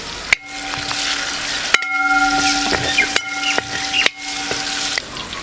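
Eight chopped green chilies hit hot oil in a tuna fish pickle pan and burst into a loud, steady sizzle that runs throughout, with clinks of stirring and a faint melodic tone in the background.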